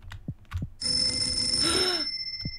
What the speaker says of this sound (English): Got a phone call, guys.